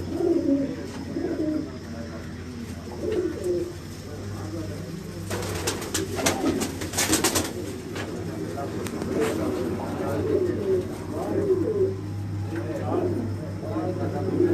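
Migratory pigeons coo repeatedly on a rooftop in Jalalpur Bhattian, Hafizabad, soft rolling calls close by, with people talking throughout and a burst of rustling or flapping midway.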